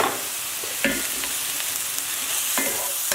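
Sautéed bok choy seasoned with salt and pepper is stirred in a hot pan, a loud, steady sizzle broken by a few scraping strokes of the utensil, close up and without speech.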